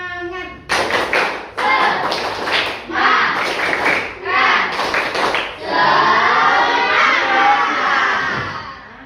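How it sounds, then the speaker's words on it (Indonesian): A classroom of children does a spirit clapping chant, shouting words in unison with bursts of rhythmic claps and thumps, loud and close, ending in a longer sustained cheer. "mari kita tepuk semangat terlebih dahulu"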